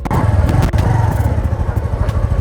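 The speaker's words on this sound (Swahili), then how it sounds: "Ni rahisi sana tu kuendesha pikipiki." A motorcycle engine pulls away as the clutch is let out slowly, its loud, close, throbbing putter steady throughout.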